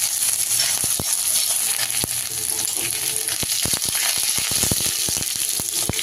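Ginger paste hitting a pan of hot oil with cumin seeds, black mustard seeds and green chilli, a loud continuous sizzle and crackle with sharp spitting pops that grow busier toward the end.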